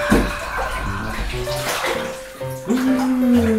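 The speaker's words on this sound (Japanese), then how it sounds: "冷たいシャワーを浴びます" Cold water from a shower runs steadily and splashes close by, with a faint voice and a brief tonal squeak near the end.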